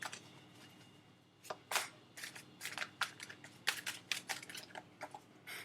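Tarot cards being shuffled in quick bursts of crisp riffling and slapping, close and fairly quiet, with brief pauses between shuffles.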